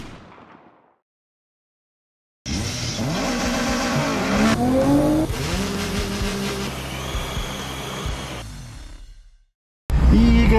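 A Nissan GTR tuned with octane booster revs hard and loud up close for several seconds, the engine note climbing and falling with sharp cracks, then cuts out before another burst begins at the end.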